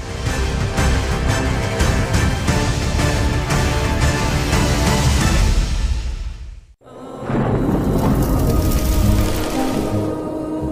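Heavy rain lashes Pavagadh hill under strong wind, a loud, dense roar of water that drops out briefly before surging back just as hard.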